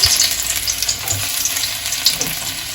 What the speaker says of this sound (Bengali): এবার সবার প্রথমে আমি এই রসুন কুচিটা দিয়ে দিলাম।